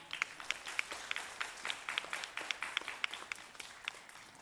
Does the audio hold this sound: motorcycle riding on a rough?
no